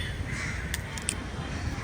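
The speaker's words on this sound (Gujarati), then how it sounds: "જો કાગડા જો કાગડા જો" Crows cawing in Gandhibag, a public garden in Surat, with a few short, fairly distant caws cutting through steady outdoor background noise.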